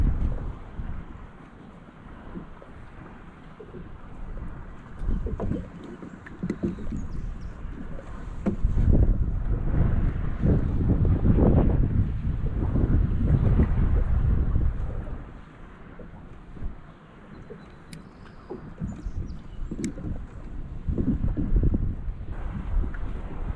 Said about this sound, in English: I'm in probably a 15-mile-an-hour wind right in my face